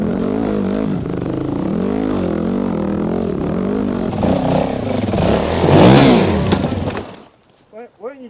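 Dirt bikes, including a Yamaha WR250R, a KTM and a Suzuki DRZ, rev hard on a muddy trail in the Watagans, their engines rising and falling while straining, then cutting out abruptly before a brief voice at the end.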